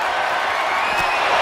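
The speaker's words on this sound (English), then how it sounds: "With every move you make, you hear this capacity crowd following you on that journey" A packed arena crowd cheers and roars in the wrestling video game WWE 2K23 during an ECW One Night Stand pay-per-view match, a loud continuous wash of noise over a brief moment.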